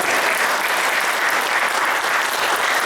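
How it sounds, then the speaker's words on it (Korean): A church congregation at a Korean Sunday service claps steadily to encourage the Sunday school students, a dense, even wash of many hands, fairly close and uninterrupted for a few seconds with no talking over it. "우리 주일학교 우리 학생들에게 격려하는 박수 한번 해줄까요?"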